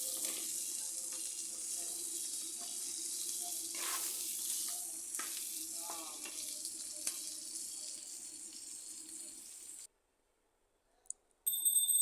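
Crabs fry in a pan with a steady, fairly quiet hiss and crackle for about ten seconds, then the sizzle cuts out to near silence, followed by a brief clatter.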